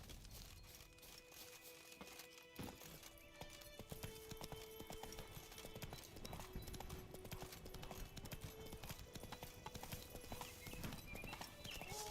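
Roach, the horse in The Witcher 3: Wild Hunt, trots with a steady, continuous clip-clop of hooves over a low ambient background, keeping a brisk, even rhythm throughout.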